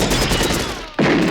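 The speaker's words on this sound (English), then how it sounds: "let's get some more machine guns in here" Sustained machine-gun fire from the 1985 action film Commando, a dense loud rattle of rapid shots that cuts briefly before another burst erupts.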